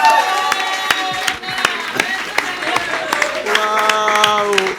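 A studio audience at a Catalan entertainment show bursts into loud applause and cheering, with whoops and shouting voices mixed through the steady clapping.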